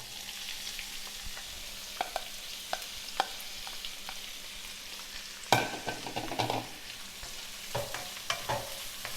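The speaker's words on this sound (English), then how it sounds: "just saute this a bit so that it can release the flavors" Herbs are sautéed in a pan for saltfish with ground provisions, giving a soft steady sizzle broken by occasional stirring scrapes and clinks, quiet and close, with a busier burst of stirring partway through.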